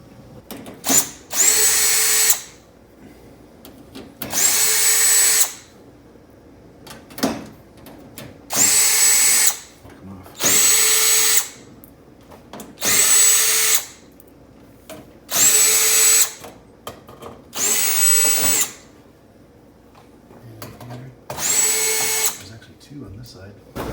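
A power drill runs in repeated bursts, about eight whirring spins separated by short pauses, backing screws out of the rear panel of a household oven during a temperature sensor repair; close and loud, with faint talk between bursts.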